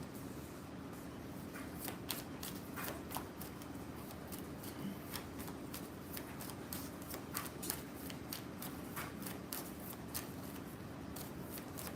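Tarot cards shuffled and flicked during a reading, a steady run of dry papery riffles and sharp snaps close by, alone without talk.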